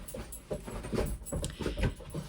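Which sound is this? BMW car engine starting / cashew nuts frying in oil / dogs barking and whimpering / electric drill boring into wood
dogs barking and whimpering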